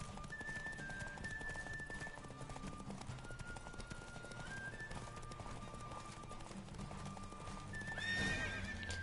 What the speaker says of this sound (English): The horse races aren't too bad.